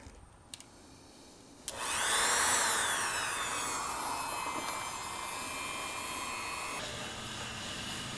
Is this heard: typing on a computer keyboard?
no